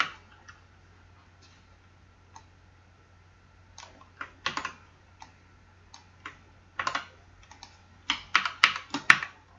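Code is typed on a computer keyboard in quiet, irregular bursts of crisp key clacks that grow denser toward the end, heard up close over a faint low hum with no speech.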